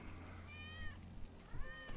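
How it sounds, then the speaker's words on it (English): A cat meows twice in the video game Final Fantasy VII Remake, two drawn-out mews about a second apart over a low, steady background drone. "That's Wedge's cat."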